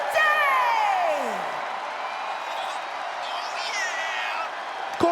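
Arena crowd in the video game WWE 2K24 during a Raw tag-team ring entrance for the New Day, cheering and whooping as a steady roar beneath descending whistle-like sweeps, with a brief slam-like hit at the end.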